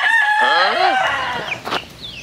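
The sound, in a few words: chickens and a rooster crowing at a backyard chicken farm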